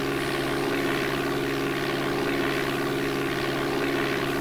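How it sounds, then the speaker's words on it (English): Steady propeller aircraft engine drone from the DOS game Flight Simulator 4, a continuous buzzing hum with a rough pulsing texture, constant in level and heard alone throughout. "The Amiga had the engine sound"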